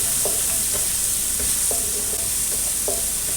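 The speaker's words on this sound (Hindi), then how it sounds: "अब मैं इसी घी में ये अदरक लहसुन डालूँगी।" Steady loud sizzling of ginger and garlic frying in hot ghee, with several light scraping taps of a spoon stirring the pan at irregular intervals.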